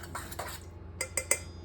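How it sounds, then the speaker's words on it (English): Dry muffin ingredients, including Ceylon cinnamon, are stirred in a bowl. A spoon scrapes and knocks against the bowl several times, then three sharp clinks ring out near the end. No one speaks. "So just give those a quick stir."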